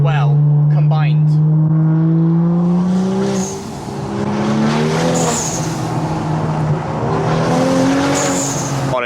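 A BMW N55 engine's exhaust revs and drones loudly up close, with sharp blow-off valve hisses and pops between throttle blips.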